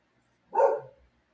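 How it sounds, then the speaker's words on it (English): A male dog gives one short, sharp bark, fairly close and clear against near silence. "He's probably barking at a car driving by right now."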